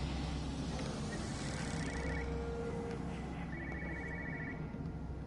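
Repeated electronic telephone rings trill faintly at a distance inside the video game Everybody's Gone to the Rapture, two bursts over a steady low ambient hum and outdoor wash.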